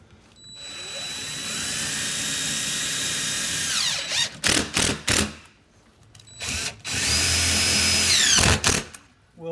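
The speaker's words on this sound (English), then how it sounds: "we pre-drilled our block, just makes it easier when you're putting screws in like this" A power drill drives screws into pre-drilled block for a front porch light mount, two long whining runs with a rising and falling pitch, separated by short choppy bursts, loud and close with no talking.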